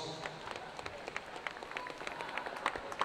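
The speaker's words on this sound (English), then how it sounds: "Give her a round of applause." Spectators at a winter swimming championship applaud in a reverberant pool hall, a faint, scattered patter of clapping with occasional sharper claps rising toward the end.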